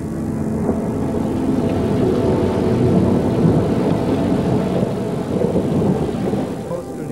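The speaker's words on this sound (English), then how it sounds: "they fall as rain." Steady heavy rain hisses and patters, dense and close, with a low rumbling underneath throughout.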